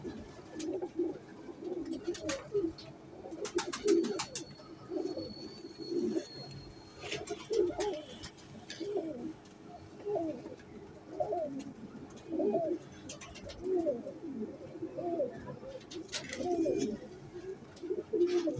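Royal teddy pigeons, a fancy breed, coo steadily in a repeating rhythm of soft throaty calls, close by, with a few faint higher chirps and light background noise between the calls.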